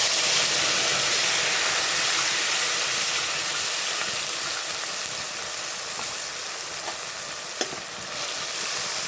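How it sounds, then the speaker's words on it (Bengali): A spice paste for a Bengali tengra fish curry with papaya sizzles in hot oil, a constant close hiss with occasional small pops and clicks of stirring throughout. "মশলাগুলো এই তেলের মতো ছেড়ে দিলাম"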